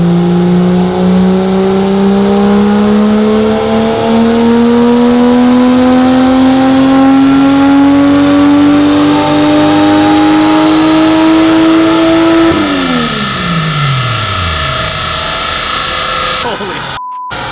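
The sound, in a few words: LS swapped Datsun Z engine revving on a dyno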